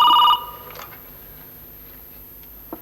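A telephone gives one short electronic ring in a quiet indoor room, loud and close for a fraction of a second at the start, then stops and leaves near silence.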